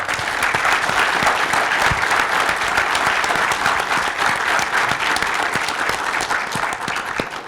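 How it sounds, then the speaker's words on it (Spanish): A forum audience applauds a journalist in Tijuana with dense, sustained clapping at steady loudness for the whole stretch, no voices over it. "pido un aplauso para Adela Navarro"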